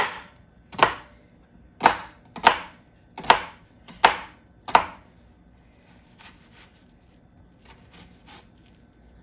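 Onions are chopped on a board, with six sharp, close knife strikes in an uneven rhythm followed by a few fainter taps.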